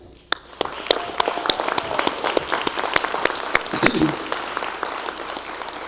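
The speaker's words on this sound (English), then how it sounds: "a round of applause for Lorraine Huzzy for her lifetime of service to this community" A town meeting audience gives a round of applause honoring a resident's lifetime of community service, with loud, close individual claps standing out at first, then merging into a steady, moderately sized ovation.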